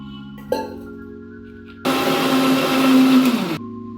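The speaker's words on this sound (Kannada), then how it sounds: "ನೀರು ಹಾಕೊಂಡ್ಬಿಟ್ಟು ಮತ್ತೆ ಮಿಕ್ಸರ್ ಮಾಡ್ತಾಯಿದ್ದೀನಿ." A mixer grinder blends a masala with water for chicken donne biryani, a loud steady whirring roar for almost two seconds after a low hum and a brief click.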